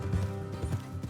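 Video game horse hooves from Red Dead Redemption 2 clop in a quick uneven rhythm, close and fairly soft, with a low rumbling background.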